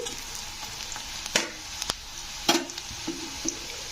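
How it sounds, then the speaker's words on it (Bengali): Onions frying in hot oil, hissing steadily with scattered sharp crackles and a few utensil scrapes as they are lifted out, close and moderately loud. "পেঁয়াজটাকে কিন্তু একটু লাল লাল করে ভেজে নিতে হবে"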